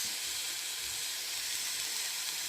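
Pumpkin chapatis steam in a pan with a faint, steady hiss that stays even and uninterrupted throughout.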